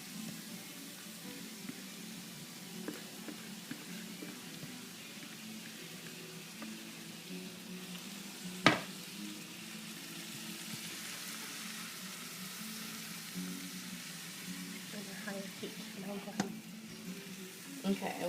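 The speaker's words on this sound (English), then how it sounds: "add the carrots in here, so they can get browned up a little bit too" Carrots fry and brown in a pot for red borscht, a steady close sizzle with occasional clinks and stirring scrapes, one sharp knock partway through.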